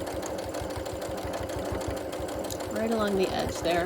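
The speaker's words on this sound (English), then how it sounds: "I'm just gonna come and sew this on here for you to finish it off" A sewing machine stitches a quarter-inch seam to attach a hanging tab to a quilt, giving a rapid, steady mechanical whirr with rhythmic needle clatter close by, while a voice speaks over it toward the end.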